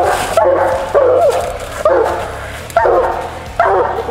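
A hound dog at a treed animal gives a string of close, loud yelping barks and whimpers, about five bursts in quick succession.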